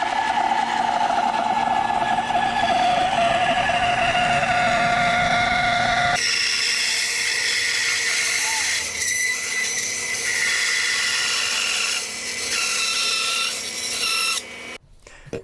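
Lathe tool cutting into a spinning poplar wood blank for a candy dish, heard up close as a continuous loud rasping, whirring drone that shifts character midway and stops abruptly at the end, no voices.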